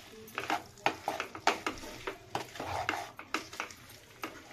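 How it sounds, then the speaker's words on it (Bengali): Spatula scraping and clinking in a pan as banana flower and potatoes are sautéed, soft irregular stirring knocks over a faint background, fairly quiet. "দিয়ে এটাকে ভালো করে কষাতে থাকবো।"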